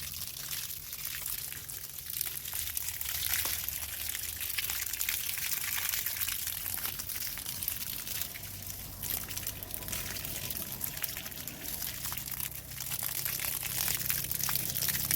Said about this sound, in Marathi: आता पाण्याचं प्रेशर जरा जास्त आलं त्यामुळे फास्ट पाणी मारून होईल